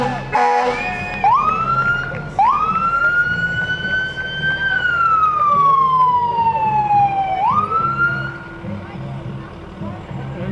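Fire engine siren from a fire department truck rolling in a small-town parade, wailing up and down in long sweeps with the rumble of the engine beneath, loud and close, with someone talking over it.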